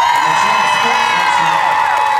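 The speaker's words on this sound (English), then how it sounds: "A show of applause." Crowd at the 2023 cheerleading world championships cheering and whooping loudly, a sustained roar of voices and shouts with pitched yells sliding over the din, close and intense throughout.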